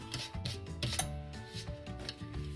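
A finger rubs dried craft glue off a surface with a soft, steady, scratchy friction that comes and goes in short strokes, close and fairly quiet.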